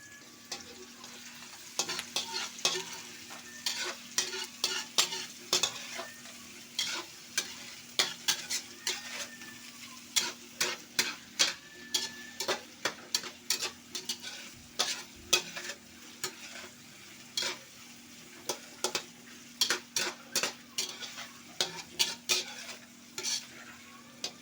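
Hotdog pieces frying and being stirred with tofu in a pan, with steady sizzling under repeated sharp scrapes and clinks of a utensil against the pan, close and fairly quiet, no talking.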